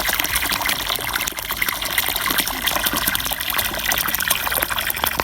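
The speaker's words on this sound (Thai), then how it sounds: "เนี่ยระดับน้ำท่อหนึ่งนิ้วนะครับ" Water gushes steadily out of a one-inch pipe into a farm pond, a dense, continuous splashing rush that stays loud and even throughout with no voices.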